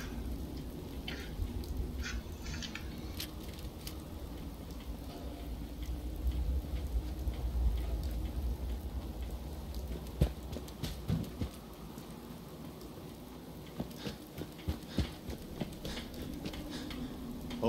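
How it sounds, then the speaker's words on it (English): Rain falls in the video game Fallout 4, a soft steady patter with scattered louder drops and occasional light knocks, faint and continuous with no talking. "Hope this rain lets up soon."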